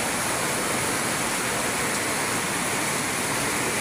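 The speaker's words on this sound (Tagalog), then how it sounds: "Napakalakas ng ulan" Heavy rain pouring down during super typhoon Carina amid flooding, a dense, loud, unbroken roar of falling water that stays steady throughout, with no voices.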